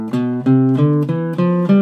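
Guitar playing an ascending minor scale box pattern in a flamenco-style beginner lesson, six clear plucked notes rising one after another at a steady pace, close and loud with no talking.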